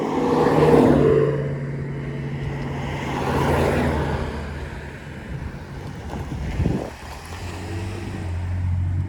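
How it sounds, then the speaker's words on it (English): Cars pass along a quiet country road during an e-bike ride, a broad rushing swell around the first second and again near three and a half seconds, with steady wind buffeting the microphone throughout and no talk. "Got some cars."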